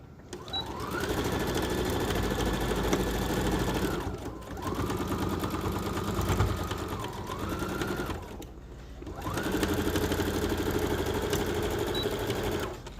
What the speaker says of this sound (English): Okay, so now we're going to just stitch this side.